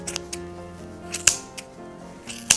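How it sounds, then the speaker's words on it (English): Scissors snipping through a needle-felted wool ball to cut it in half, giving several sharp, close clicks and snips spaced irregularly over a faint background hum. "take a pair of scissors and cut it in half"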